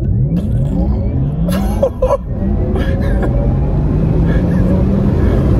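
A Porsche Taycan Turbo electric car launches hard, its rising electric whine climbing in pitch over loud road and wind rumble inside the cabin, with a brief voice partway through.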